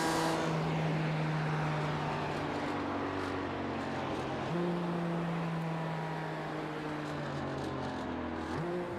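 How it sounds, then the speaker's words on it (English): BMW M4 race car in a sim racing game at Oscherleben: a sustained engine drone holding one pitch, then stepping up sharply after a gear change and climbing again, steady and moderately loud with no voices over it. "BMW M4 sounds amazing from this angle."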